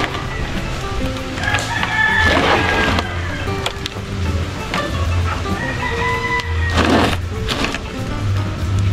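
Penned, tied-up pet chickens cluck nearby while a rooster crows loudly twice, several seconds apart, over a steady low background hum.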